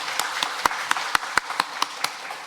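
A small church congregation claps during a Sunday worship service, about ten sharp, separate claps in a loose, sparse rhythm over a quiet room.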